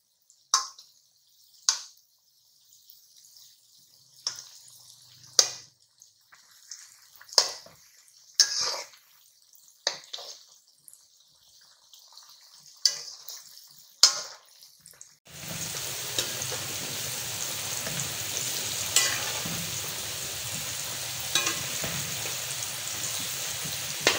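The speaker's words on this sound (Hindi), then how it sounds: "मैं इसको तकरीबन 6-7 मिनट इस तरह फ्राई करूंगी, तेज आंच है" Potato finger chips frying in oil on high heat start with scattered sharp clicks and pops, then settle into a dense, loud, continuous sizzle for the final stretch.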